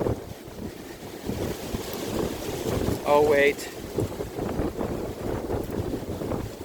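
Gusty wind buffets the microphone at an outdoor fence-building job, a broad rumbling roar that holds steady throughout, with a brief spoken exclamation partway through.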